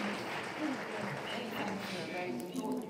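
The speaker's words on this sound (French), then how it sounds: "Je vous demande d'applaudir très fort les membres de cette table de discussion." Conference attendees applaud a panel discussion with soft, continuous clapping in the room while a voice speaks over it.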